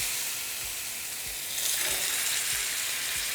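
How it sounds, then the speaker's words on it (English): Meat searing in hot oil in a cast iron pan for green pozole gives a steady, loud broadband sizzle that swells and crackles more intensely partway through, continuous and close with no voices. "now we're just going to sear it for about 3 minutes per side"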